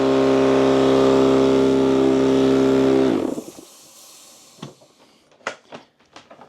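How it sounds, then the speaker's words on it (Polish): A loud, steady mechanical drone with a low hum from an air compressor powered by an Allpowers S2000 Pro power station cuts off abruptly about halfway, followed by a few scattered knocks and clicks in near silence. "Jak widać, kompresor działa."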